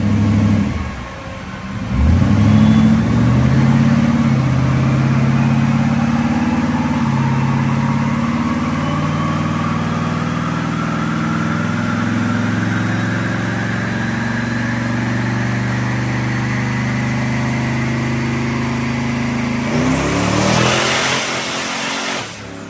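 A car engine with a stock cam, running on 87 octane pump gas, is revved on a dyno, rising steadily in a long sustained pull and then dropping off, loud and close with no voices.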